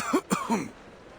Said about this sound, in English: you seem to have quite a severe cough